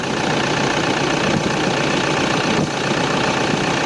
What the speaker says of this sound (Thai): เสียงเครื่องยนต์ดังนิ่มมากนะครับ